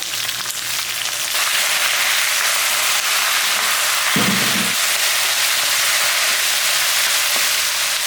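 Vallarai keerai (Centella leaves) sauté in a pan with a loud, steady sizzle that runs throughout. A brief, sharper burst of frying noise rises midway.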